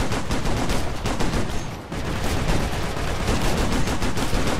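Sustained rifle fire in the video game Operation Flashpoint: Red River, with rapid continuous shots and loud, dense crackling throughout and one brief lull near the middle.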